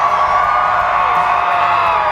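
A festival crowd at the Lone Star Smokeout barbecue and music event cheers and whoops for the MC, a sustained roar of mixed shouting voices heard close and loud.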